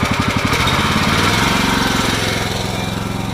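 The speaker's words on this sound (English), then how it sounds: "gotta turn the engine up a little bit" The engine of a Faymonville Megamax or Multimax heavy-haul trailer runs loud and close. It starts as a pulsing idle, then revs up into a steadier, faster throb to drive the hydraulic steering.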